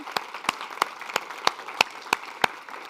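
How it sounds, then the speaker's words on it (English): Applause at a youth dialogue session on climate adaptation comes as about eight distinct, evenly spaced claps that sound close and moderately loud over a quiet room. "Please join me with a big applause to Omnia."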